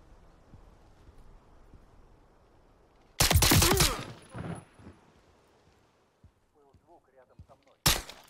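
Gunfire in Call of Duty: Modern Warfare III breaks out in a loud burst of shots, then a lighter volley and scattered clicks, with a final sharp shot at the end after a quiet start.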